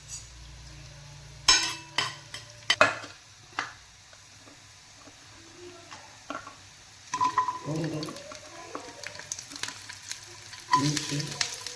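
Coriander seeds fry in oil in a pan with a soft, close sizzle, broken by sharp clinks and stirring scrapes from a utensil, and the crackle grows busier toward the end.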